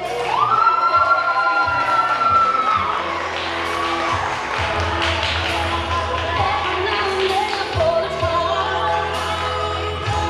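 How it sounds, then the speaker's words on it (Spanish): A crowd at a waltz dance welcomes a chambelán's entrance with strong applause and cheering, whoops and shouts rising over dense clapping, with a voice and music mixed in throughout. "Vamos a recibir con un aplauso bien fuerte al primer chambelán"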